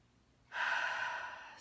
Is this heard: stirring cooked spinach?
no